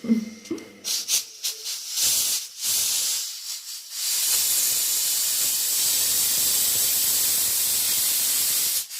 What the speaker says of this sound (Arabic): سامعين الصوت قد ايه؟ فانا هرفعه واخرج كل البخار